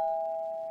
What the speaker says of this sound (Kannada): Door bell.